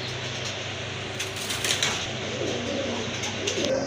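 Pigeons for sale coo softly in a cage, low rolling calls repeating under light rustling and faint background noise, fairly quiet throughout.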